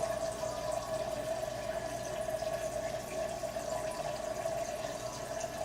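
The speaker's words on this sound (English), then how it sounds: "Now we're going to dump this in here and see what our temperature looks like." Hot water for brewing mead is poured steadily into a container, making a continuous rushing trickle with a sustained tone and no talk.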